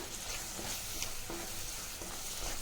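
Cooked, blended spinach mixture briefly frying in a pan, a soft continuous sizzle with faint stirring scrapes, fairly quiet and close, no voices.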